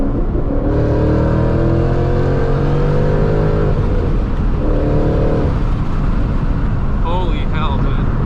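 Supercharged manual Ford Mustang GT accelerating hard, loud engine tone climbing through the revs, dropping at a gear change and then pulling again, heard from close by.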